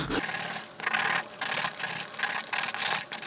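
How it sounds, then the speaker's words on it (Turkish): Rhythmic rasping of sandpaper worked back and forth over a surface, close by, in about five steady strokes with short pauses between. "Şimdi yüzeyi düzgün bir şekilde zımparalamamız gerekiyor."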